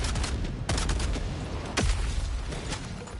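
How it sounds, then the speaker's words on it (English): A machine gun fires in Helldivers 2 in rapid, loud bursts, with a couple of heavier sharp reports standing out over the steady rattle. "try the machine gun if you want"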